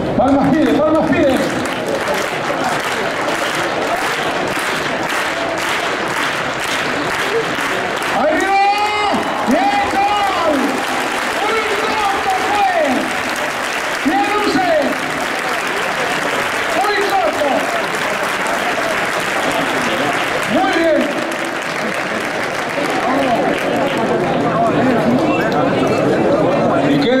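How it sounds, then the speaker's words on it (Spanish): Rhythmic crowd clapping and applause at a Valladolid street bull-running event, with loud cheering voices and announcer-style talk over the sustained clatter throughout. "Palmas pide, palmas pide"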